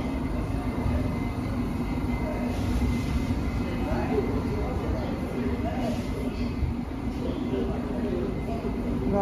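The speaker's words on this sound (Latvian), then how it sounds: "Esam metro. Vienā no metro stacijām, vienā no vecajām metro stacijām." Rumbling train in an old London Underground metro station, a steady rolling rail noise with squealing wheels and clatter, under a woman's speech.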